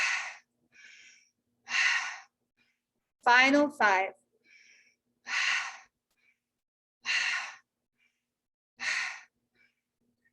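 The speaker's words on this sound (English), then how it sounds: "Keep breathing." Deep, forceful breaths during a guided meditation for summer solstice healing, about six loud, evenly spaced breaths, each a second or so long, separated by silence, with someone briefly speaking between them.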